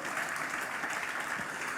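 A church congregation at a GBI worship service in Batam applauds steadily, a dense, even wash of clapping from many people that holds without pause throughout.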